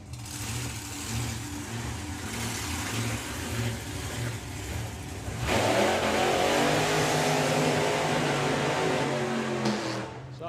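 A Plymouth 5-window drag racing car with a huge engine rumbles at idle, then roars loudly as it revs hard, with deep, close, sustained exhaust noise at Santa Pod Raceway during Dragstalgia 2022.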